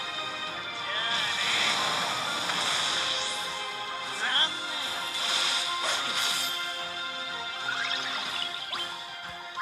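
Dark Tornado attack from Final Fantasy XV, cast while playing as Ardyn: a continuous swirling rush of whooshes with whip-like cracks and impacts, loudest around the middle, lasting close and full throughout with no talking.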